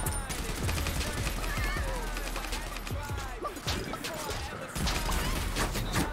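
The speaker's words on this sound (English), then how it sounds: "LMG! Oh my gosh, we're getting shot by from a distance." Light machine gun fire in an online battle royale game, rapid bursts and scattered shots crackling from a distance, mixed with mechanical clatter while players talk over it.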